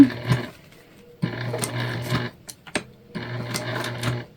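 A sewing machine back-stitching a tote bag runs in three steady, motor-driven bursts with brief pauses between them, close and loud, with a few light clicks in the gaps.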